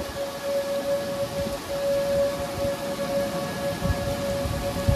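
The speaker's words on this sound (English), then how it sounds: "sirens are back on. It's the fourth time for the sirens, I believe." An outdoor warning siren holds a long steady tone while heavy rain pours down, loud and continuous, with no voices, during a derecho storm in Iowa.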